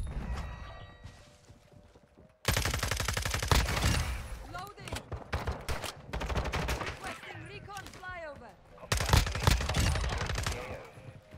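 Rapid automatic fire from an FSS Hurricane in Modern Warfare, loud sustained bursts of tightly spaced shots with brief pauses between strings, set over quieter game ambience and clinking effects.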